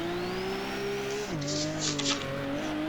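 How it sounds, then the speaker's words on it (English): A drift car at Mercury Baypark revs hard in third gear, its engine note climbing, then dropping sharply at a clutch kick before rising again, with bursts of tire squeal over the steady, close engine roar. "So clutch kick third, try and ride the wall a bit twice."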